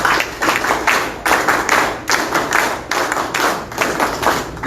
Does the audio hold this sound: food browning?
no